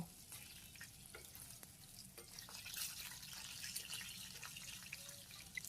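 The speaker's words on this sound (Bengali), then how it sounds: "আমি ধীরে ধীরে উল্টিয়ে দেব, দিয়ে সুন্দর করে ভালোভাবে এগুলো ভেজে নেব" Butterfly chicken pieces fry in a pan with a soft, low sizzle and a few faint scrapes as they are turned, quiet and close with no voices.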